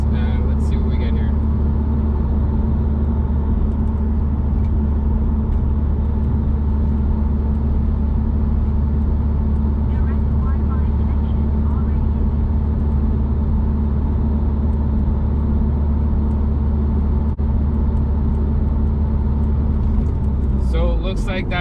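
Steady cabin road noise inside a 2017 Subaru WRX Limited cruising at 60 mph with windows and sunroof cover closed: a constant low tire and engine drone with faint hiss, unchanging throughout, no talk.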